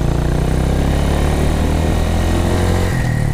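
A motorcycle engine on takeoff as the throttle is gently rolled on through the clutch friction zone, a loud steady droning rumble held close and constant with no talk.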